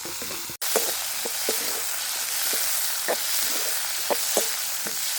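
Curry leaves and spices frying in hot oil give a steady, close sizzle, broken by occasional small pops and stirring scrapes after an abrupt start.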